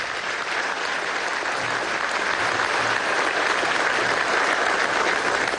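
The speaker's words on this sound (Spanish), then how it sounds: "Con la ovación del público presente" Sustained ovation from the assembled crowd at a Bolivarian National Police graduation ceremony in Venezuela, with thick, even applause that stays loud and unbroken throughout.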